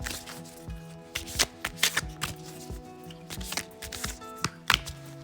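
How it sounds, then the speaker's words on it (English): Tarot cards being shuffled by hand, a run of crisp riffling bursts and soft taps in an uneven rhythm, close and alone without talk. "I'm sending you so much love while I shuffle the cards."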